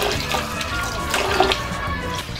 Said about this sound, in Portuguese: Quanto mais água melhor para lavar, né?